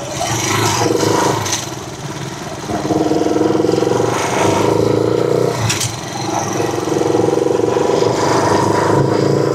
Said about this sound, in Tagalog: Ayun, may motor na nakapasok.